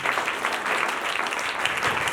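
A church congregation claps vigorously, a thick continuous patter of many hands that stays loud and even throughout the short stretch, with no speech on top.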